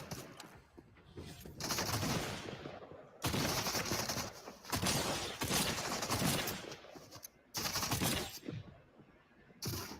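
Rapid gunfire in the video game Fortnite, several bursts of dense automatic shots separated by short pauses, loud and close.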